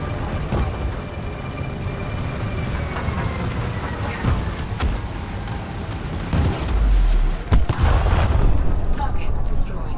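A target ship explodes during bounty-hunting space combat, flown from an Anaconda, as a deep boom and rumbling bursts late in the stretch over steady ship hum, with a voice talking throughout.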